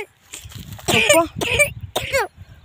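Several harsh coughs and throat-clearing bursts sound close, in uneven spurts with a voice talking around them, in a village home where someone has fallen ill with a cough.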